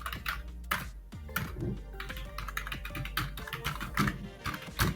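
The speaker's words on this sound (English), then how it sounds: "Okay, no worries, I can be able to type." Rapid typing on a computer keyboard while entering an email address during TallyPrime software setup, with a steady stream of close, crisp key clicks and a few louder keystrokes.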